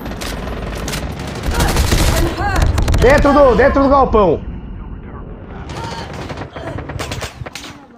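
Rapid automatic gunfire from a shooting video game rattles in loud bursts, with a player talking excitedly over the shots before the firing thins out into scattered sounds.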